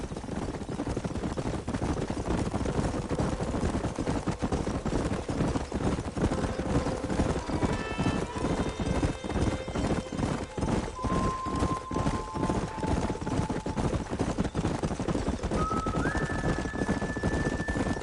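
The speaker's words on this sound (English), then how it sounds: "There's the horses!" Rapid rhythmic hoofbeats of galloping horses in Red Dead Redemption pound continuously, with occasional tonal game sounds layered over the steady clatter.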